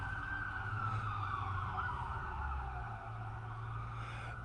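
An emergency vehicle siren wails outdoors in a steady, wavering tone that holds for several seconds, moderately distant, with no voices.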